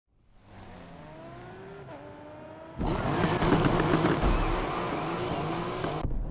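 A car in the racing game Need for Speed Unbound revs and accelerates hard, its engine note climbing steadily and then surging much louder midway, holding a loud, close roar before cutting off near the end.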